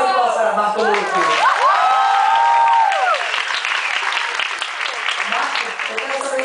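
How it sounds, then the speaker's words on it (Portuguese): Studio audience applauds and cheers for comedian Marco Luque, steady loud clapping with whoops and shouts over a 6-second stretch, with voices calling out. "uma salva de palmas para Marco Luque"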